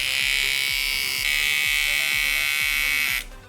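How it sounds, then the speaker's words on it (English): A loud, steady buzz from a Xiaomi MSN T3 electric shaver with a rhythmic low pulsing underneath, running continuously and then cutting off abruptly near the end. "the MSN shaver makes unpleasant, a bit repulsive, somewhat buzzing sound"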